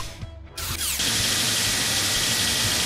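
A drill whirs in a Paw Patrol video game: a brief mechanical rattle spins up into a loud, steady, noisy buzz that runs on continuously, with no speech.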